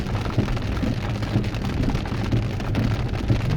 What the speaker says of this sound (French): En plus, il y a de l'orage.